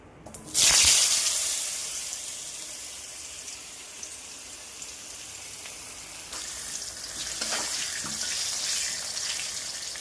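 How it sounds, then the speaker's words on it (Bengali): Potatoes frying in oil for a chicken and potato gravy, a loud splashing burst of sizzle at the start that settles into a steady close hiss for the rest, no talking. "আলু করে ভেজে উঠিয়ে নেব।"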